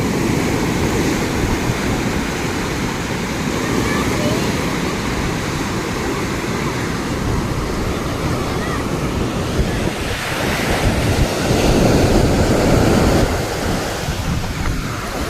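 Sea waves crash continuously on the shore near Somnath Temple in Gujarat, a loud, dense roar with strong wind noise and a swell of surging water near the end.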